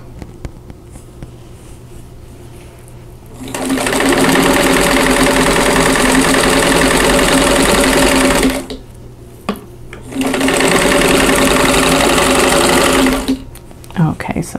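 Sewing machine stitching quilt triangles into a larger triangle, running in two steady bursts of several seconds each with a short pause between, loud and close over a quiet room.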